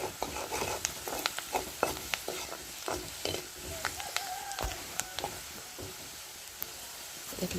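Spiced food frying in a pan, a low sizzle under repeated sharp spatula taps and scrapes against the metal, close and fairly quiet.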